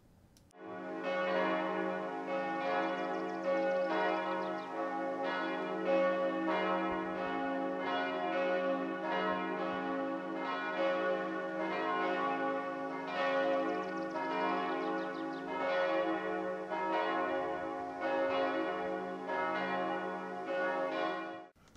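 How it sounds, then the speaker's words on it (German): Church bells in Erfurt Süd peal steadily for services, a full, continuous ringing that carries loud and unbroken for about twenty seconds with no voices. "Noch heute lädt die Kirche mit ihrem Glockengeläut zu Gottesdiensten ein."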